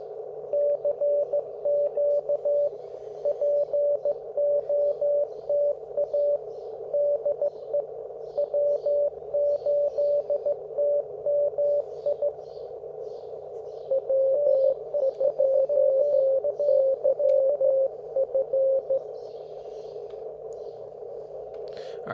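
Simulated Morse code CW pileup in the Morse Walker trainer: several steady sidetone keying streams overlap in fast dot-dash rhythms over a continuous hiss of band noise, running throughout at even loudness.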